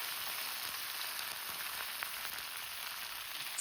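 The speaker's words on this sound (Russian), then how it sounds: "И теперь в сковородку я сразу же добавляю шпинат." Fresh spinach fries in a hot pan with fried garlic, giving a steady, close hiss and sizzle with faint crackles throughout, no voices over it.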